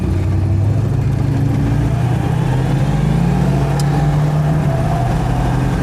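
A big American Ford pickup passes with a low, rumbling engine burble, a steady deep throb beneath constant road noise heard from inside another car.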